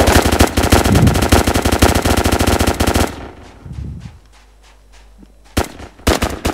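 Video game gunfire from Impact: a loud, rapid automatic burst for about three seconds, then a pause and a few sharp single shots close by.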